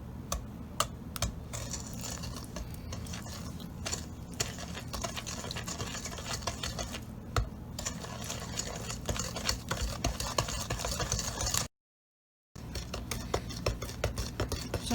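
Sugar and egg whisked together for brownie batter, a continuous gritty scraping and rapid clicking of a utensil against the bowl, close and steady, with a short pause near the end and no talking.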